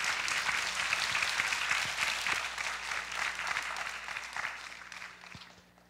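An audience at an Asia University lecture hall applauds to welcome the university's founder and a communications professor, with steady, moderately distant clapping that gradually fades out toward the end.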